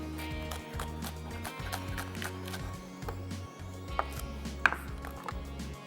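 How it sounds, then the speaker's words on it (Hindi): Green chillies chopped with a knife on a board for a kaleji katakat recipe, a steady rhythm of quick, close taps with a few louder clacks, accompanied by faint kitchen background noise. "थोड़ी सी डालेंगे मिर्चें चॉप करके"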